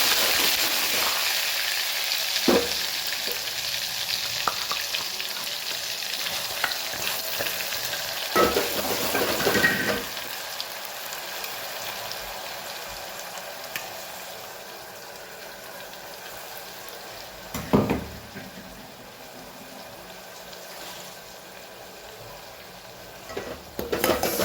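Green chili, tomato and garlic paste sizzle in hot oil in a home kitchen while dal makhani is cooked, a steady close frying hiss broken by a few sharp stirring clatters, with no voices.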